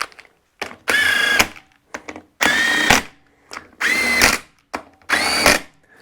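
A power tool tightens bolts on a Massimo engine bottom end during assembly, four loud whirring bursts of about half a second each, separated by short pauses and clicks, close up with no talking.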